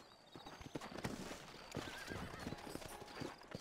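Horses from Red Dead Redemption, set in New Austin, whinny and neigh over a steady run of clip-clopping hooves on hard ground, close and fairly loud with game ambience underneath.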